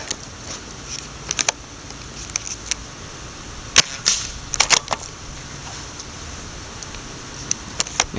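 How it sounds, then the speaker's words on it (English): A KND ACE Bow toy blaster firing five darts in quick succession at a firing range, heard as sharp, close snapping shots with faint clicks and handling noises between them. "see how fast I can fire off 5 rounds"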